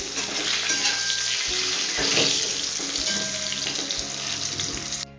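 Pieces of khero taro fry in hot oil until reddish like potatoes, a steady dense sizzle with a few clinks of stirring running the whole time, close and fairly loud, with no voices.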